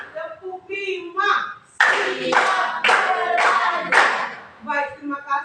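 A class of students claps in unison to a teacher's counted 'clap one, clap two' routine, several rounds of sharp collective claps set between a woman's spoken counting in a classroom.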